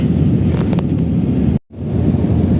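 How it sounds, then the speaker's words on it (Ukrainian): Wind blows steadily outdoors in a snowstorm with falling, drifting snow, a continuous loud rushing roar buffeting the microphone that cuts out briefly before resuming. "Дує ну і мете в нас"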